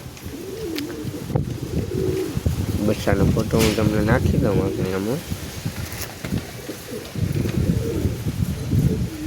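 Pet pigeons coo in repeated throaty, warbling phrases, close and clear, while someone talks over them throughout.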